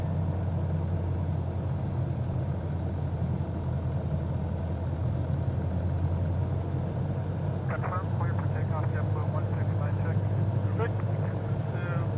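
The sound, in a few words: light aircraft engine in Microsoft Flight Simulator 2020 video game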